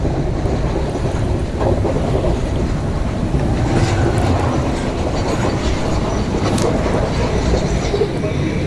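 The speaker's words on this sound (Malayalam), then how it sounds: "ട്രെയിൻ എത്തിപ്പോയി. അപ്പോൾ നമ്മൾ ട്രെയിന് പുറപ്പെട്ടിരിക്കുന്നത്." A crowded passenger train running along the coast near Galle, Sri Lanka, heard from on board as a continuous loud rumble with rhythmic wheel clatter and gusty wind noise.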